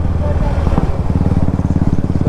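Motorcycle engine of a KTM RC200 or Royal Enfield Classic 350 throbs loudly and close, a rapid pulsing exhaust beat that grows steadier and more rhythmic toward the end.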